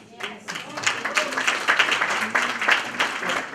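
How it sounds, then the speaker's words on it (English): Audience applause at a human settlements symposium, a crowd clapping steadily and fairly loud for several seconds, with voices talking and calling out over it. "the last round of applause goes to the COO"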